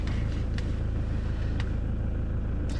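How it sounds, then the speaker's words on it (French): A Toyota Land Cruiser KDJ120 engine runs close by with a steady, low, pulsing rumble for a few seconds, with a couple of faint clicks over it. "on va démarrer le véhicule"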